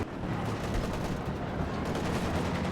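Artillery fire rumbles in the World War II strategy game Company of Heroes 2, with overlapping booms and crackling blasts forming a continuous, moderately loud barrage.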